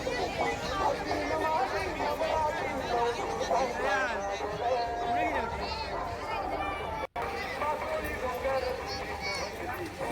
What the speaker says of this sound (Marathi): भरमसाठ गर्दी आहे